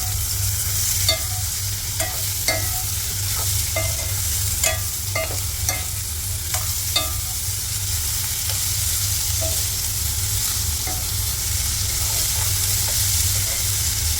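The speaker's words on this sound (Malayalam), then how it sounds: "ഇതും കൂടി ഇട്ട് നന്നായിട്ട് വഴറ്റാം" Chopped ivy gourd sautéed with turmeric in a pan, a steady sizzle with repeated sharp scrapes and clacks of a spoon stirring, close and loud, no talking.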